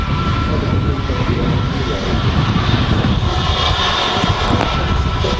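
Jet engines of a Turkish Airlines Airbus A321neo at Manchester Airport on a windy day, a steady loud broadband roar with a whining tone, continuous throughout with wind noise and faint talk underneath.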